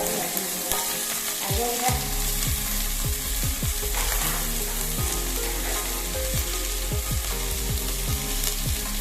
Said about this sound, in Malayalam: നല്ല രീതിക്ക് നമുക്ക് ഇളക്കി കൊടുക്കാം.